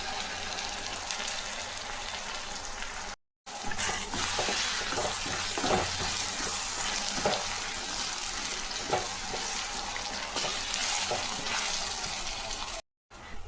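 Ground tomato hits a pan of sautéed onions, giving a steady close sizzle and fry with stirring scrapes, broken by two brief silent gaps.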